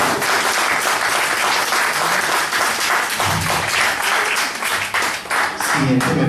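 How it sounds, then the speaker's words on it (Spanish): An audience at a medical lecture on transfer factors breaks into sustained, loud applause, dense clapping with crowd noise filling the room throughout, with a few voices mixed in. "¿eso no merece un voto de aplausos?"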